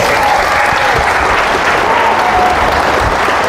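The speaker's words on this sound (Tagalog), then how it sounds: "Laksan-laksan niyo po yung palakpak nyo" A church congregation claps loudly and continuously, a dense, even roar of many hands filling the room without pause.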